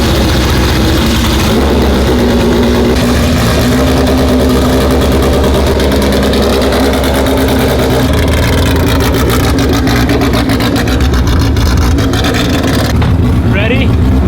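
A tuned 450-horsepower EM1 Honda Civic Si with a new K-Tune shifter revs while driving: a loud, continuous close engine roar that rises and falls throughout, with voices talking over it.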